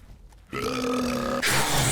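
A loud, drawn-out belch from a zombie in the 7 Days To Die multiplayer game, starting abruptly after a quiet moment and running nearly two seconds with a rising, raspy tail.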